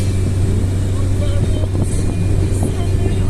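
Steady, loud rushing wind noise inside a moving car, with a constant low rumble of road and engine underneath and no clear talking.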